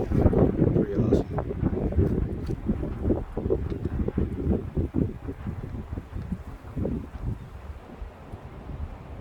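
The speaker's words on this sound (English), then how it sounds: "wind blows fiercely like every other day" Fierce wind buffets a microphone at Pali Lookout on Oahu's windward side in Hawaii, a steady loud roaring rush with gusty swells throughout, with some faint rustling in the background.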